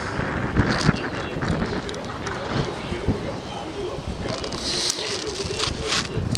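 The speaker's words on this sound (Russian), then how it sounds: "Ветер сегодня дует" Wind blows on an upper seaside embankment above the seaport in Anapa in December, a continuous rough rushing and buffeting close to the microphone that rises and falls slightly throughout.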